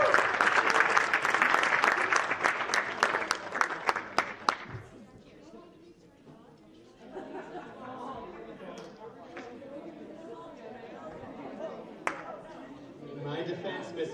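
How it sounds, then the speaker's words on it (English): An audience at a high school FFA banquet applauds its graduating members, dense clapping for about four seconds that fades into murmuring crowd chatter and some talk. "Can we get another round of applause for all of our graduating members?"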